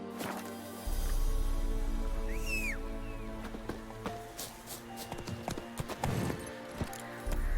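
Horse hooves clip-clopping in The Witcher 3: Wild Hunt, a steady rhythm of fairly close hoofbeats over a low rumble, with a brief whistle-like chirp near the start and a few sharper knocks later.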